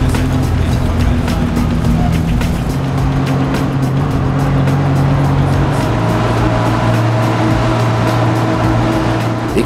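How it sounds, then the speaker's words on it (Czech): A car engine labors hard and loud as it climbs a steep road in Yemen, a steady droning roar with continuous wind and road noise throughout. "podle zvuku motoru a Alešova výrazu se dá odhadnout, že to stoupání je opravdu značné"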